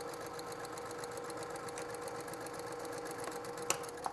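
Sewing machine running a top stitch along a quarter-inch seam on quilting fabric, a fast steady mechanical whir and needle clatter, fairly quiet and continuous, with one sharp click near the end.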